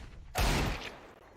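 A single short burst of gunfire in a Counter-Strike match, a sudden loud crack followed by a rumbling tail that fades within a second.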